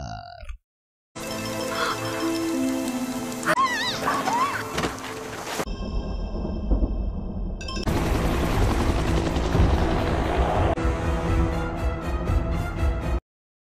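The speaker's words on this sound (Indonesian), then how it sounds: "datang menjemputnya menggunakan helikopter" Helicopter engine and rotor roar, loud and sustained, broken by brief cuts and shifts in tone, with no talk.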